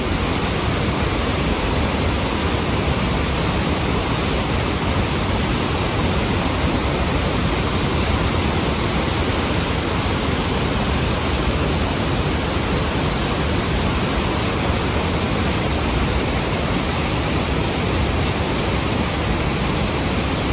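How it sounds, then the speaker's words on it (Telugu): Bogatha waterfall under heavy flow roars as a loud, steady broadband wash that stays constant and close throughout, with no voices over it. "సో చూసిరు కదా బొగతా వాటర్ ఫాల్స్ అయితే"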